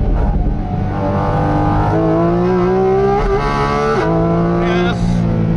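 A Porsche GT4 RS engine with a PDK gearbox in sports mode revs hard on a mountain pass, toward 9000 rpm. The loud, close engine tone climbs steadily in pitch with brief dips between pulls.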